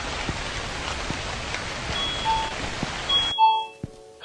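Steady rain hisses across the scene in a haunted shop video game, a dense wash of drops that fills the first three seconds before cutting off abruptly, leaving a few electronic tones and a quiet tail.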